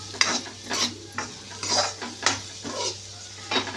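Crushed garlic and spices sautéing in a pan, a soft sizzle broken by repeated spatula scrapes and clinks against the metal in an irregular stirring rhythm.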